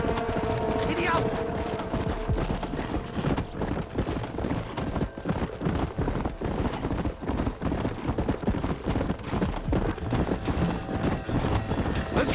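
A horse gallops in the Western video game Red Dead Redemption, with rapid continuous hoofbeats and a brief neigh. Music and game sounds play underneath, and a voice calls out over the galloping.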